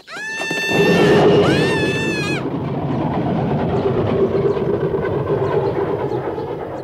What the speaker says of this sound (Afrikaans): Dis ons trein daai, Heidi, sien jy?